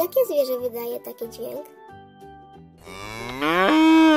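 A child asks a short question, then a loud, drawn-out cow moo rises and holds alone until the end.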